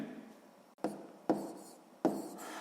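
A math answer about negative numbers is written by hand, with soft, near scratching strokes broken by three sharp taps of pen on paper.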